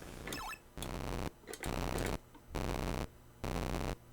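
A cat purrs close by in loud rhythmic bursts, each lasting about half a second with short pauses between, at a steady breathing pace.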